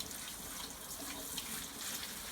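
Tap water runs steadily over broccoli rabe being rinsed in a sink, a close, continuous splashing rush with no talking.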